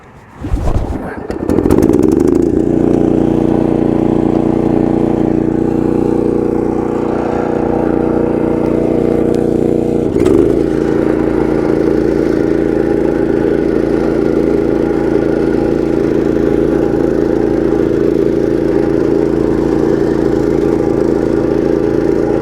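A walk-behind sod cutter slicing turf in a lawn: a few rough pulls, then the engine catches and runs loud and steady close by, its drone shifting slightly as the blade bites into the ground.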